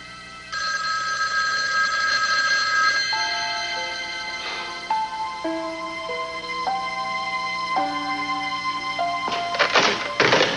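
A telephone rings alone in a quiet room, a steady electronic ringtone of bright repeating tones with a stepped melody, ending in a couple of clattering knocks as it is handled.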